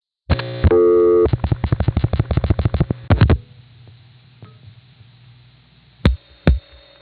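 A 1974 telephone exchange in New York's 914 area answers a dialed number toward Warwick. A steady loud tone is followed by a rapid train of pulsed tone bursts, then a low hum, then two brief sharp clicks.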